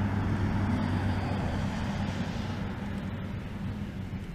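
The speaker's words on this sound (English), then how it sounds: "Sorry for all the car noise, but like I said, it goes right along 30th Street" Steady traffic roar from a very busy arterial road, 30th Street in Colorado Springs, heard from a recumbent bike ride on a December day; continuous broadband rumble at moderate distance with no voices.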